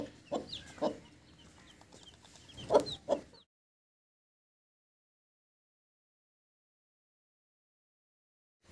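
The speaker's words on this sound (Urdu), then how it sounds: "یہ مرغی ہیں، ساری مرغی ہیں یہ جی" Hens cluck in a few short bursts over the first three seconds at a backyard flock, fairly close but soft, then near silence follows.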